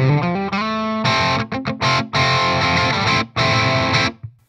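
Distorted electric guitar from a Les Paul-style instrument through a Retro 30 amp, a short loud passage of sustained notes followed by choppy palm-muted chord stabs with abrupt gaps, ending on a fading note.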